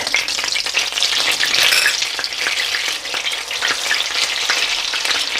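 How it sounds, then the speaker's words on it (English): Fresh ginger and garlic frying in melted butter in a pan, a bright continuous sizzle with occasional stirring scrapes, close and loud with no talking. "we're going to fry this for about a minute just to get rid of the rawness"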